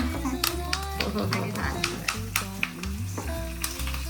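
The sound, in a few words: curry leaves spluttering in hot oil for tempering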